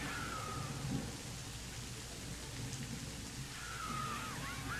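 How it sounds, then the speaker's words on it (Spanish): Steady rain falling as a continuous broadband hiss, with faint chirping tones drifting in near the start and end, and no talking. "Ya nos habíamos acostumbrado al sonido de la lluvia y al movimiento del agua"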